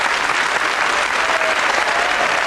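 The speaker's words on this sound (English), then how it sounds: "A warm round of applause for playing a good game of Cluedo." Studio audience applause on a 1993 UK Cluedo game show, a dense, sustained wash of clapping heard on its own.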